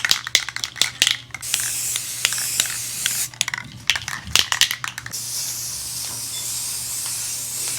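Aerosol spray paint hissing in repeated short bursts onto a new wooden shelf for a camper van, then one long continuous spray toward the end, close and loud, with no talking.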